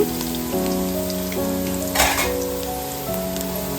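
Onions and spices fry in a pan for chicken biryani, giving a steady rain-like sizzle that runs throughout beneath sustained background music.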